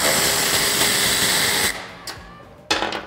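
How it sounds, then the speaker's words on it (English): A 10 mm socket driven by a power tool on the tail light bolts of a 2005-2020 Toyota Tacoma, a loud steady whirring buzz that cuts off, then brief rattles and a short final burst. "We're gonna grab a 10 millimeter socket to do so. The bolts we're gonna remove is this one."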